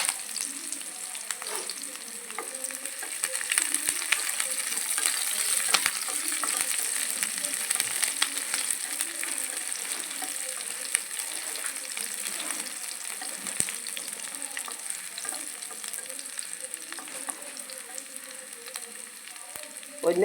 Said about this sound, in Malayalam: അപ്പം നമ്മുടെ ഉള്ളി വറുത്തു.